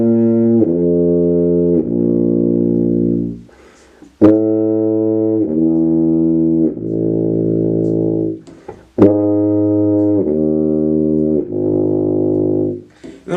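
A tuba plays a descending lip slur from an octave and fifth down to the root, sustained loud tones stepping downward in slurred groups, repeated three times with brief pauses between phrases.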